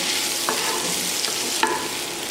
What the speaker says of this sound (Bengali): লবণ দিয়ে দিচ্ছি এতে করে আলুটা যেমন ভাজা হয়ে যাবে তেমন তাড়াতাড়ি সেদ্ধ হয়ে যাবে